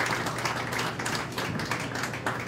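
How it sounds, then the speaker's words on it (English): Steady, dense clapping from an audience at a county fair beef show, loud and continuous across the whole stretch with no talk over it. "Let's give those kids a round of applause for the hard work that they've put in today"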